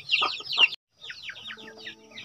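Silkie and Rhode Island Red cross chickens clucking up close, a burst of rapid cackling calls, a brief pause, then more clucks over a faint hum, no one talking.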